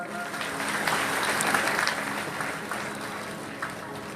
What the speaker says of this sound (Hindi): देखिए मुख्य जवान सब ताली बजाएंगे एक बार।